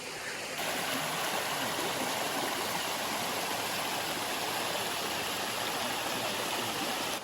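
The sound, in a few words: waterfall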